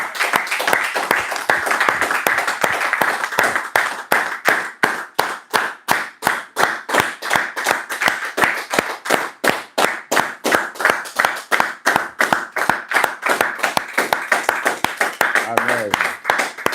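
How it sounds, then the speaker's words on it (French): A church congregation at a Sunday teaching and prayer service claps for Jesus in a steady, rhythmic unison beat, sharp regular claps repeating for over fifteen seconds with voices faintly underneath. "Applaudissons pour Jésus."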